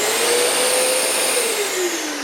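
A Festool Cleantec CT 26 vacuum extractor runs loud and steady, its motor holding a continuous whine that drifts slightly lower toward the end, with no talking.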